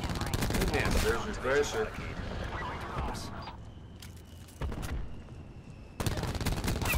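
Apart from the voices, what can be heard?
shotgun and Spitfire gunfire in the video game Black Ops 4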